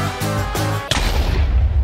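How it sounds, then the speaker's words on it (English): A loud Minecraft explosion from a bed set off in the End bursts with a sharp crack, then a rumbling noisy tail, preceded by two pulsing tonal game sounds. "Just don't place your bed down or you'll explode."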